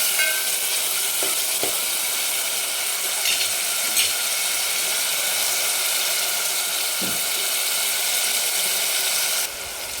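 A large tomato softens in a pan over garlic for cabbage curry, making a loud, continuous hissing sizzle with a few faint stirring clicks, close up and without talking.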